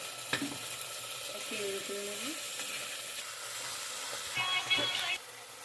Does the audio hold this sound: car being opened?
no